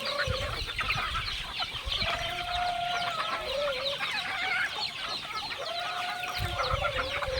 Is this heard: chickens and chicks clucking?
yes